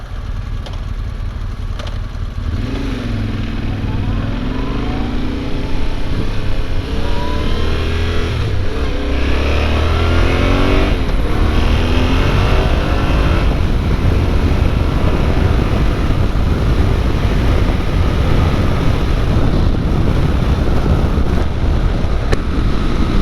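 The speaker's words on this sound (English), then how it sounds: "I'm on the brand new 2022 Yamaha Tenere 700" A 2022 Yamaha Tenere 700 motorcycle is ridden on the road, with a loud, close engine note that revs and rises under heavy, continuous wind roar.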